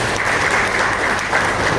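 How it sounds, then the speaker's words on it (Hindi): A crowd at a chef's book launch gives loud, sustained applause, a thick continuous wash of clapping with no pauses and no voices standing out. "जोरदार तालियां इनके लिए।"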